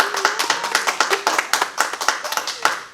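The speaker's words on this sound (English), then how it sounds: "Let's give a round of applause." A small group claps after an interview's closing thanks, brisk irregular hand claps close by with scattered voices underneath throughout.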